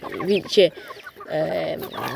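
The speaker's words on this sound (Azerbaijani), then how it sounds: "Bu keçənci toyuqlarımızdır, baxın." Backyard hens cluck in short, close bursts, a few calls in quick succession with quieter gaps between.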